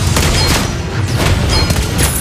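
Rapid gunfire bursts from a hero's weapon in the mobile game Mobile Legends, loud and dense with booming impacts, continuous over a couple of seconds without speech.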